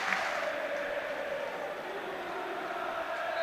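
Broad, soft crowd noise at a Hibernian v Hearts football derby as players and fans applaud, a distant, even wash of stadium sound with no distinct individual claps.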